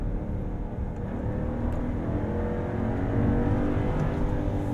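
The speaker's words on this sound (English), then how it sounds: "All right, so, you know, just enjoy the engine noise." The engine of a 2022 Jeep Grand Wagoneer hums and gradually rises in pitch as it revs through manual downshifts, a steady moderate drone heard from inside the cabin, with road noise underneath.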